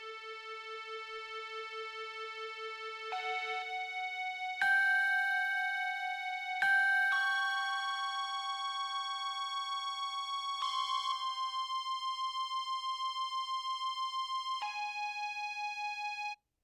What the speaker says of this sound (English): it's playing it in extreme time stretching. So it's very, very slow, and it's going to be like this